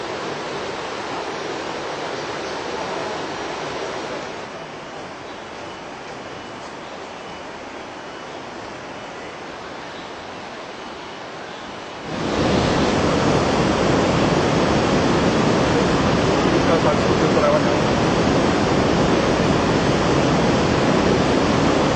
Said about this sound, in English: The roaring and splashing of the turbulent flow amid the rocky formations is a sight to behold.